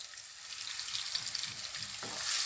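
Cumin, turmeric and chili powder fry in oil for a Bengali chitol fish muitha dish, giving a steady close sizzle with soft scraping stirs that grows a little louder near the end.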